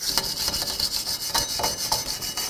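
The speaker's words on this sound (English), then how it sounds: "I'm going to spray it with brake parts cleaner and wire brush all of this off." A wire brush scrubs rust and grease off the rear brake parts of a Dodge Grand Caravan in quick back-and-forth strokes, a rasping scratchy rhythm that is fairly close and moderately quiet.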